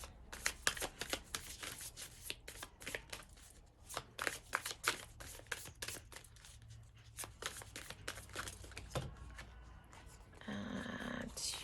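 Tarot cards are shuffled up close in quick, crisp riffling flutters for most of the stretch, followed by a brief softer rustle at the end.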